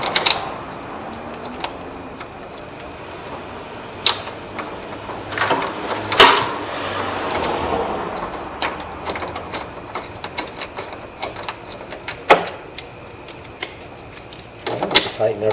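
Bolts being tightened on a reinstalled car battery bracket: sharp, irregular mechanical clicks and clatters, close by, with a few louder snaps among them and a voice talking through parts of it.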